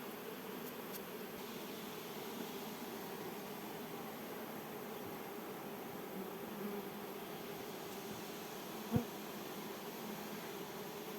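Steady insect buzzing from many honeybees during swarm handling fills the whole stretch, a dense continuous hum with one brief knock near the end.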